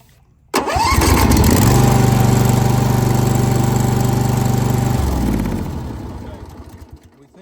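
An old Hustler Super Z zero-turn mower engine cranks and catches near the half-second mark, then runs at a loud, steady idle for several seconds before winding down and fading.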